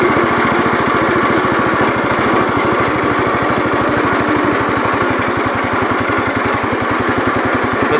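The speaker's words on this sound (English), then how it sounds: "This motor chugs pretty good." A tractor motor runs close by in a steady, loud chug, its rapid, even pulses thumping without a break and with no talking over it.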